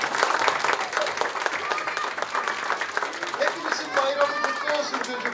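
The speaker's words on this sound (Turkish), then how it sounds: "Öğretmenlerimize alkışlar mıyız?" Kindergarten children and guests at a 23 Nisan celebration applauding their teachers, a busy patter of clapping mixed with children's voices, shouts and chatter throughout.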